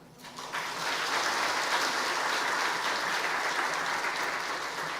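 A church congregation at a Sunday afternoon service bursts into applause, dense sustained clapping from many hands that starts abruptly and holds steady for several seconds.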